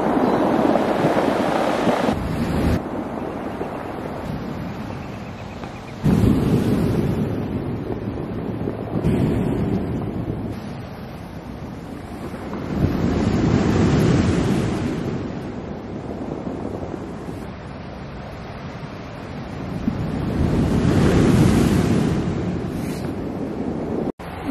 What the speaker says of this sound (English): listen to the waves crash and then roll down the rocks